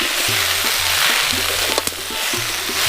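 A pan of mixed winter vegetables with spinach is stirred steadily, with a continuous close sizzle and rhythmic scraping strokes of the spoon, low hum underneath.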